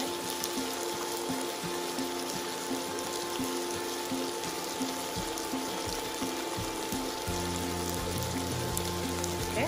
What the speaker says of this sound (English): let me just drain the water